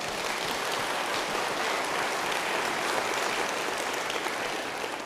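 A university fall kick-off audience gives a round of applause for the inaugural faculty, a dense, even wash of many hands clapping at moderate distance throughout, with no voices over it.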